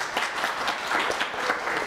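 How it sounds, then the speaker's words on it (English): A church congregation applauds during a Sunday worship service to welcome a newly baptized child, a steady wash of many hands clapping throughout the short moment. "we will just share our welcome in applause"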